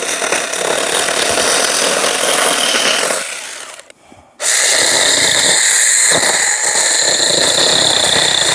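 A cordless electric mini chainsaw on a pole runs loud and close, whining steadily as it cuts wood, cuts out briefly to near silence, then revs straight back up and keeps cutting.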